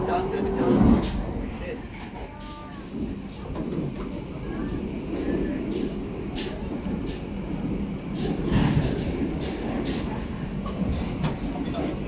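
Sawunggalih economy train running on the rails, a steady rumble and rattle of the carriage with scattered clanks, heard from inside the car while a person talks over it.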